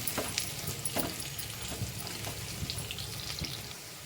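Nendran banana pieces frying in a pan, giving a steady close sizzle with occasional soft pops and crackles that stays even throughout, without talking.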